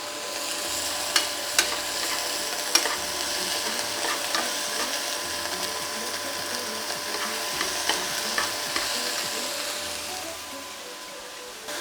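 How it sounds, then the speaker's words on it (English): Onions with ginger garlic paste fry in a pan until crispy brown, a loud continuous sizzle with frequent stirring scrapes and clicks, easing slightly near the end. "And then you just fry the whole thing over so that the onions get a little crispy brown"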